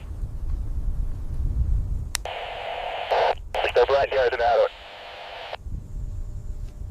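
Crackly two-way radio bursts with squelch clicks and a garbled transmitted voice, between stretches of low rumbling background noise.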